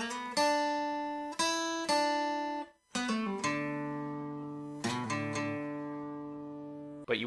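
Acoustic guitar plays a full phrase of a song's solo, a run of plucked notes with ringing sustains, quick double strikes and a brief pause midway, heard close and alone.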